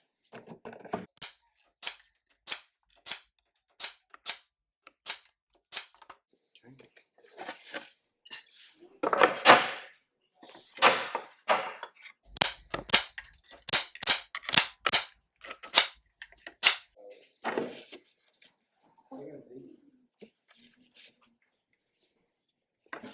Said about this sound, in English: I'm going to use my staple gun to do that